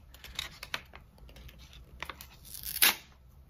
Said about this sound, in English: Oh, I ripped the paper a little bit.